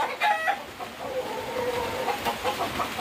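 A gamefowl rooster of Gilmore Hatch bloodline gives a short cluck, then a drawn-out crow, nearby against faint background noise.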